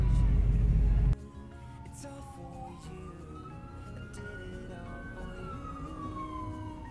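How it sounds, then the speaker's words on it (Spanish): Police and ambulance sirens wail on a Mexico City street during heavy traffic, a sweeping tone rising and falling at middle distance after a loud low rumble fades, steady under light background noise. "desde hace rato siguen pasando patrullas y ambulancias"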